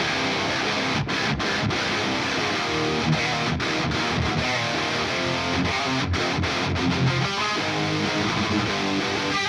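Dense, heavily distorted metal guitar tracks, several takes of foundational tones blended together into a thick, layered wall of sound, loud and continuous with rhythmic chugging and brief stops.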